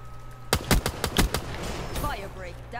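M14 rifle fire in a first-person shooter game: a quick burst of about six sharp shots in under a second, followed by a short electronic game sound, with no voice over it.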